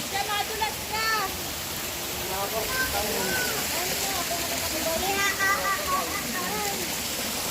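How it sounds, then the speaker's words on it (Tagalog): Steady broadband rush of river water flowing toward a low waterfall at Balanak Falls in Paete, Laguna, continuous and moderately loud, with people talking over it. "Hindi pa po ito yung waterfalls. Ilog pa lang ito."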